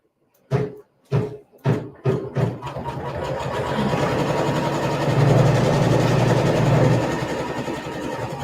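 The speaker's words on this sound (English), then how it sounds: "now it's going to sew the satin stitches to cover the raw edge of your applique" A sewing machine stitches dense satin stitches over the raw edge of a fabric applique: a few short separate bursts first, then a continuous close mechanical whirr that holds steady and loud, with no voices.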